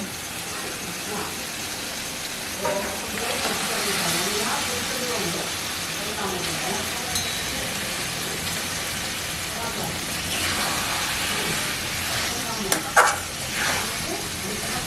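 Mutton pieces for Lahori mutton hit hot spiced oil and sizzle with a steady, broad hiss that continues throughout, with a few light clatters near the end.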